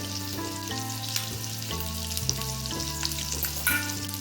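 Spices sizzling and frying steadily in a pan for dhaba-style egg masala, a continuous close crackle with soft stirring scrapes throughout and a low steady hum beneath, no voices.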